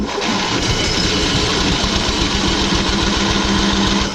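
Onan 5,000-watt gas generator in a 1997 Pace Arrow Vision Class A motorhome cranking steadily without catching, a loud continuous rhythmic starter churn filling the whole stretch with no talk.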